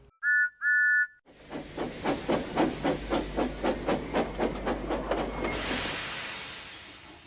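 A cartoon steam train gives two short, clear whistle toots, then chuffs in with a rapid, rhythmic series of loud hissing puffs that build and end in a long, steady release of steam.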